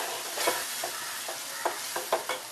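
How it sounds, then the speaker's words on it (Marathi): A spoon stirs turmeric and garam masala in a hot pan for a Maharashtrian masoor amti, with soft sizzling under a series of distinct scraping strokes, close up and with no talking. "पाव चमच हळद अर्धा चमच गरम मसाला छान मिक्स करून घेऊया"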